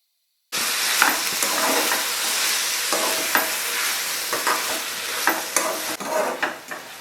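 Red chillies frying and stirred in a pan, a loud continuous sizzle with scraping stirs and small pops throughout, close and steady with no talking.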